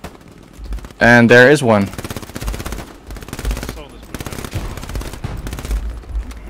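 MG42 machine gun fire from the WW2 video game Hell Let Loose comes as a short loud burst near the start, followed by scattered quieter gunfire and battle noise while someone talks.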